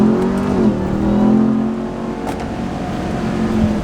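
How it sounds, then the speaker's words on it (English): 2021 Dodge Ram TRX supercharged pickup accelerating hard, a steady engine roar with a rising whine layered on top, loud and close throughout with no talking. "So you literally hear the supercharger whine when you hit the gas in a freaking truck."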